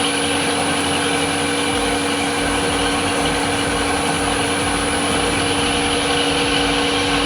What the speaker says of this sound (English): It's about a quarter-inch cut into half-inch steel, running at 700 RPM.